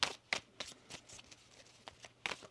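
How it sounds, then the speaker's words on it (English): Tarot cards shuffled by hand in a quiet room, several quick papery riffling bursts at uneven intervals, soft and close, with no talking. "One more shuffle."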